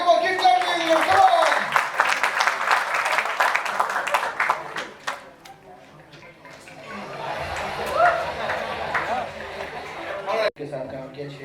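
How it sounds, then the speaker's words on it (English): An audience claps and chatters at a fan awards show, dense clapping for several seconds that thins as voices and laughter take over, with an emcee speaking near the end. "Come on, keep clapping."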